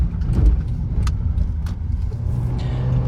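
Small Honda Fit straining up to speed on a freeway, a low, steady engine drone with road rumble and wind noise, continuous and fairly close, with no talking over it.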